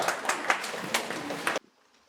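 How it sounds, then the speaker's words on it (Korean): Applause from guests at a Korean traditional wedding ceremony: a dense patter of clapping lasting about a second and a half, then cut off abruptly into near silence. "먼저 큰 박수 부탁드리겠습니다"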